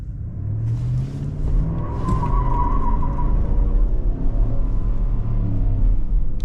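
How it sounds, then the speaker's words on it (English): A GMC Yukon, a large seven-seat SUV, with traction control off does a light burnout: a steady, loud low engine rumble and tire roar that builds and holds, with a brief squealing tone early on. "do a light little burnout"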